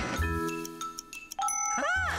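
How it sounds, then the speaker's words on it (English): A bell rings in a cartoon animation, a bright ding-dong chime that rises clearly partway through, with busy musical sound around it. "Oh, bell rings."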